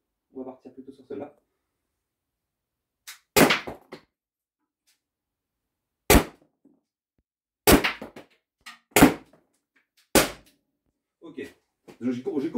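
Shots from an Umarex T4E HDR .50 caliber gun, five sharp, loud cracks spaced a second or two apart, with brief speech at the start and end.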